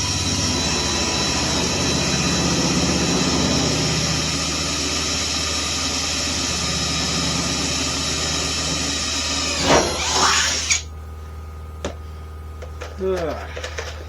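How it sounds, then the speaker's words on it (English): A loud, steady grinding whine of a power drill with a 3/16-inch bit boring into car body metal runs for about ten seconds, then stops abruptly; quieter clatter and faint sounds follow. "Hopefully the drill bit holds out, because it's the only 3/16 that I currently have."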